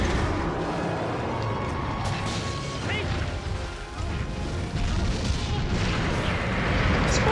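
Cha-Cha's bombs bursting against a monster in Monster Hunter Tri, a dense continuous clatter of crashing impacts and booms filling the stretch at high level.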